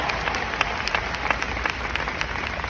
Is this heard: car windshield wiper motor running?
no